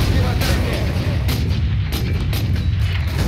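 Rapid heavy bolter gunfire from a modified hunter bolter in the Warhammer 40000: Space Marine video game, a dense continuous barrage of loud booming shots filling the whole stretch.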